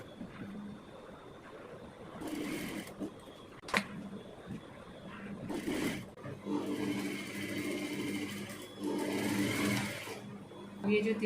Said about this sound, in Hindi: इस तरह लाइन टू लाइन मिलाते हुए और स्टिच लगा देंगे।